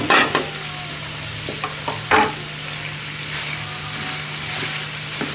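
Mixed vegetables stir-frying in a pan for Chinese egg fried rice, a steady close sizzle with a few sharp scrapes and clacks of a spatula against the pan.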